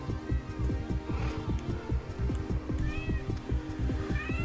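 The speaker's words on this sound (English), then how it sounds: "My cat has come to play with me." A pet cat meows repeatedly in a steady, insistent rhythm close by, the calls running continuously under a background of game sounds.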